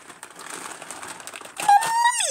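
A package is torn open by hand, giving a brief crinkly rip that rises sharply near the end, close and fairly loud with no talk over it.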